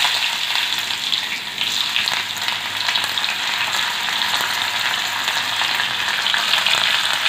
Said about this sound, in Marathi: फोडणीचा कांदा घातलेला आहे